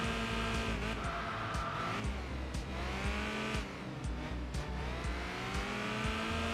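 A Honda Accord with a single stage of weight reduction and a stock engine, racing in Enthusia Professional Racing: a steady, close engine drone whose pitch rises and falls through gear changes, with faint tire noise.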